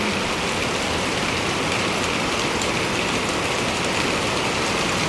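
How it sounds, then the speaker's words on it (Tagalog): Heavy rain pours steadily during a typhoon, a dense, constant roar of rainfall with wind, even and loud throughout with no voices. "Tapos ngayon ulit, ayan, diba, malakas ulit yung ulan."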